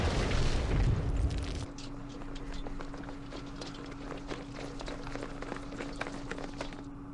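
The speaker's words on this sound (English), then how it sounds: "Now that archer is firing." Archer tank destroyer firing in the Campaign Series Middle East wargame: a heavy booming blast at the start, then a quieter stretch of rapid clattering impacts and a steady hum.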